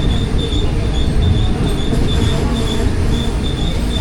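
A Pakistani passenger train at Kot Lakhpat station gives a loud, steady rail rumble with a high wheel squeal that keeps coming back, close and continuous, with no talking.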